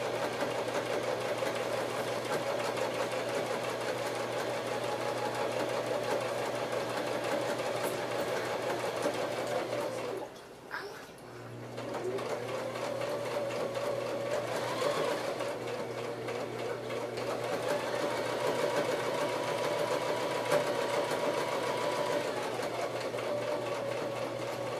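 A sewing machine stitching a handmade handbag, running steadily and close-up for a long stretch with one brief pause partway through, no talking.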